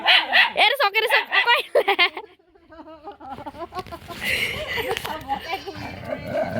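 A dog on an Assam pig farm barks and yips in short excited bursts, fairly close, mixed with a person talking and children's voices around it.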